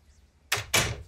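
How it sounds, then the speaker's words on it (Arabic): Two quick close thuds of a door being pushed shut, the second slightly louder, in a quiet room. "سكري الباب سكري الباب"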